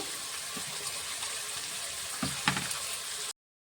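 Chicken for a Patiala curry fries in a pan with a steady broadband sizzle throughout, a couple of brief louder bursts near the end as it is moved or stirred, with no talking.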